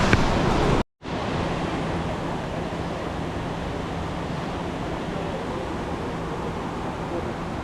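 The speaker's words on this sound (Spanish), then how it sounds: "acá ya listos para meternos al río Buritaca" Broadband rushing water of the Buritaca river near Santa Marta, Colombia, flows steadily and close, a dense continuous roar that briefly cuts out near the start and then runs unbroken.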